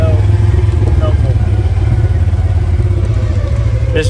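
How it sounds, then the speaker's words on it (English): Polaris RZR Ultimate side-by-side engine braking down a steep trail in Uwharrie National Park, a loud, low, steady engine rumble with clattering, continuous throughout. "I do like the engine braking on this Razor Ultimate"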